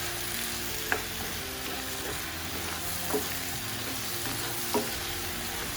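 Bottle gourd and sardines sautéing in a pan, a steady close sizzle with three soft clinks of a utensil against the pan spaced a couple of seconds apart.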